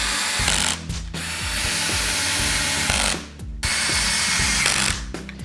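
A power drill drives a screw into a wooden leg of a rustic outdoor storage bench, whirring loudly in bursts with ratcheting clutch clicks and short pauses between runs, up close.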